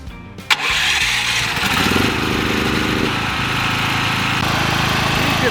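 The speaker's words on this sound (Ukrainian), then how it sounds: "переключаємо режим повітряної заслінки в середнє положення і заводимо генератор" A Felisatti GBG-9500EK petrol generator with its choke at the middle position cranks briefly, then catches and settles into a steady, loud running drone close by, with no talk.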